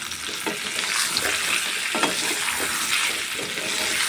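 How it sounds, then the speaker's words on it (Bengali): Pointed gourd (potol) frying in a pan over raised gas heat, a continuous crackling sizzle broken by repeated scraping strokes of a spatula as the pieces are stirred around. "এবার গ্যাসের আঁচটা একটু বাড়িয়ে দেব আর একটু নাড়াচাড়া করে নেব পটলটা"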